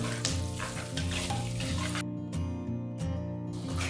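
Garlic and ginger fry in a hot pan, a steady loud sizzle broken by repeated scraping stirs of a spoon, close and continuous with no talk.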